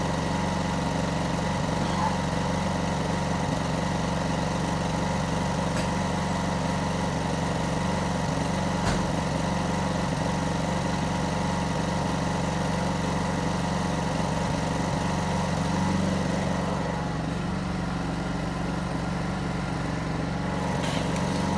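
A generator with a Predator 212 engine runs on three-year-old 100LL avgas, a steady, even engine drone with a constant hum and no change in pitch, loud and close throughout.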